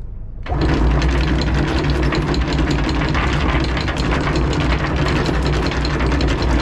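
Sailing yacht's inboard engine revved in neutral off the coast of Turkey, a loud, steady rapid mechanical clatter and low rumble that starts abruptly and holds throughout, without talk.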